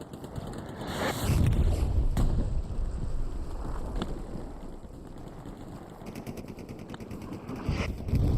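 Sustained gunfire in the Hell Let Loose game at St Mere Eglise, with bursts of shots and loud impacts cracking over a constant rumbling, wind-like battlefield background, some rapid repeated firing near the end.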